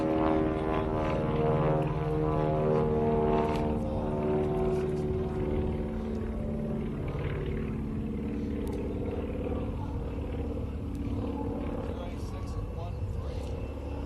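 A propeller aircraft flies slow and low at a Utah military air show with gear and flaps down just above the stall, its engine holding a steady droning hum for the whole stretch, while a commentator talks over it on the public address.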